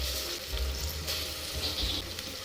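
Onions frying in hot oil for a basmati veg pulao, with tomato going in; a steady, close, moderately loud sizzle runs throughout with slight swells and no voices.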